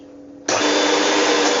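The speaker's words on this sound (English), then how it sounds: "150 grams of caster sugar. There we go. And I'm just going to beat that until it's creamy" An electric mixer beats 150 grams of caster sugar with olive spread. After a faint hum, it kicks on abruptly into a loud, steady whirring buzz that continues without a break.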